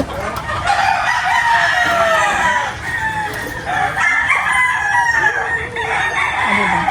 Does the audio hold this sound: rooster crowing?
yes